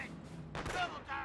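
Artillery fire from the PC strategy game Company of Heroes, a short loud blast and rumble mid-clip amid dense battle noise, with voices and other effects mixed in.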